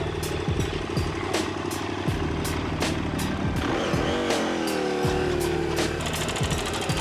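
A KTM Super Duke motorcycle engine revs hard and climbs through rising pitches as it accelerates away, loud and close, with gear changes breaking the repeated upward sweeps.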